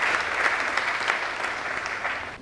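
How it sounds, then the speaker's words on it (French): An audience in a large hall claps together, a loud, dense burst of continuous applause with scattered sharper claps, steady throughout the short stretch. "j'aimerais que vous puissiez vous applaudir vous-même"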